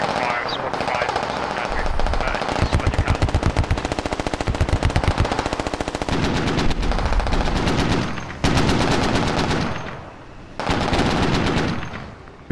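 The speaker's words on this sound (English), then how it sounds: "all the 50 cals opened up" Heavy .50 caliber machine guns in the video game SquadOps hammer out long, rapid bursts of loud, sustained fire with brief pauses between volleys, as a voice talks over the gunfire.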